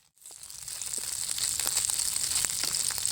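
Boiled flour dough balls fry in a little oil, giving a steady, close sizzling hiss dotted with small crackles that starts abruptly and continues to the end.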